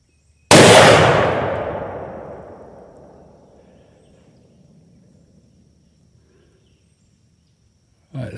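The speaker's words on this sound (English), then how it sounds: "those last two shots were on it when I shot." A single sharp deer rifle shot cracks at an outdoor range, loud and close, its echo trailing away over a few seconds into quiet before a faint rustle at the end.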